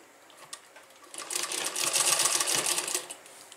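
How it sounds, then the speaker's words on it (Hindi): Sewing machine stitching the fabric of a kurti, a steady fast whirring run that swells after about a second and holds for two seconds before easing off, close and alone. "आप दोनों को बराबर करके तीन सूत पकड़ के सिलाई कीजिए"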